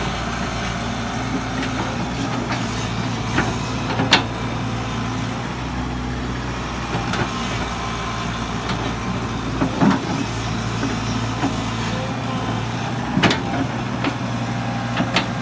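A Kobelco SK045 mini excavator works at a road-clearing site, its diesel engine running at a steady, loud drone throughout, with occasional clanks and thumps from the machine.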